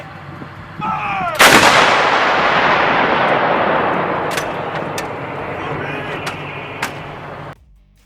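HIMARS rocket artillery launching in Ukraine: one sharp, loud blast followed by a long roaring rumble that slowly fades, with a few fainter cracks later on.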